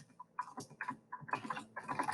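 Keyboard typing comes in quick clustered bursts of clicky keystrokes, with short pauses between the runs and no talk over them.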